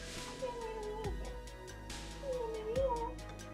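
Mia, a pet cat, gives a few drawn-out meows close by indoors, with brief rustling and soft human sounds in between.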